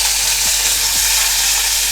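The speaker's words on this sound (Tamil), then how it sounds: "ஒரு கடாயில் 3 டீஸ்பூன் நல்லெண்ணெய் விட்டுக்கோங்க. 1 டீஸ்பூன் கடுகு பொரிஞ்சிச்சு." Loud, steady sizzle of sesame oil with mustard seeds spluttering in faint crackling pops throughout, a constant hiss close up and no voices.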